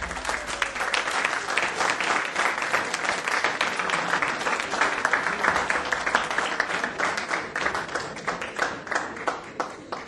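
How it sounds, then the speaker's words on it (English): A lecture audience breaks into sustained applause, dense overlapping claps with audible individual hand strikes pulsing throughout, loud and close, with no speech over it. "Don't clap quite so often, otherwise you are left with claptrap."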